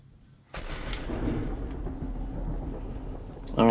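A thunderstorm in the Minecraft video game with an addon starts with a sudden crack of thunder, then a loud, rolling rumble and rain that run on, with another burst of thunder at the end.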